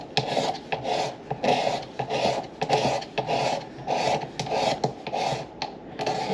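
Scraping a guitar fretboard hump at the 15th fret, a rasping, rubbing sound in steady repeated strokes, close and moderately loud, with no talk.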